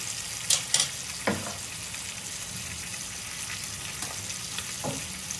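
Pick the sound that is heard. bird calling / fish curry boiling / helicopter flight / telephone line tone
fish curry boiling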